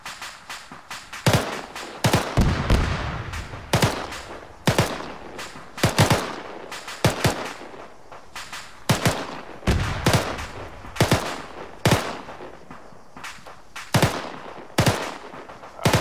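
Loud rifle and machine-gun fire from the military shooter Arma 3 during an infantry squad training session: repeated sharp bursts and single shots in an irregular rhythm, close and dominant throughout.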